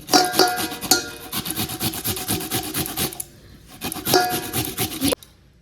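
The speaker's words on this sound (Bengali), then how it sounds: "এই গ্রেট মেশিন দিয়ে এবার দেখো গ্রেট করে নিচ্ছি" Radish being grated by hand on a grater, a fast rhythmic rasping scrape in repeated strokes, close and fairly loud, with a short pause before a final burst of grating.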